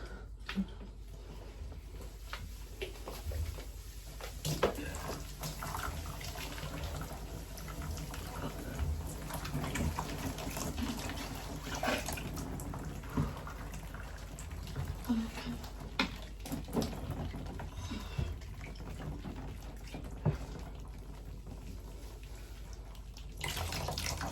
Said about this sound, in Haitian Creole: Nous avons de l'eau sale qui saute dans les cheveux.